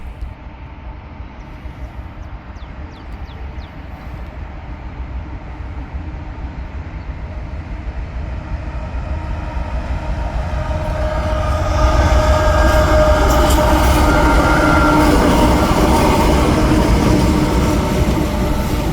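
A CSX freight train rumbles past on the Grand Rapids Sub, its steady rolling roar building louder and closer about two-thirds through, with wheel clatter and metallic rail noise continuing to the end; no one speaks.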